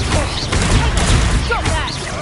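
A blasting spell explodes in a video game, a burst of crackling, fusillade-like blasts that fills the short moment loudly and up close, with some voice or game sounds mixed in.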